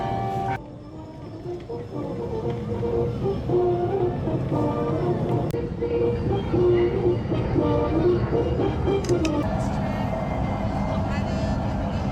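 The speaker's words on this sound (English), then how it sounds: "there's a train system that goes underneath these little tunnels" A small model train rumbles and clatters along its track through little tunnels in a LEGOLAND miniature display, with a steady mechanical whir and faint background chatter from people nearby.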